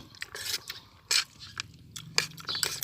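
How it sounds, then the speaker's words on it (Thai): Someone eats pad see ew up close, with bursts of wet chewing, biting and smacking mouth sounds coming in irregular clusters and short pauses, no speech. "กินผัดซีอิ๊วครับ"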